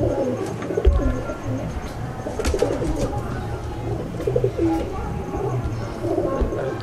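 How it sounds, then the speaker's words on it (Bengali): White pigeons in a coop coo steadily in low, repeated murmurs, several birds overlapping close by with soft rustling throughout. "এবার আমি একটা সাদা পায়রা দেখাচ্ছি"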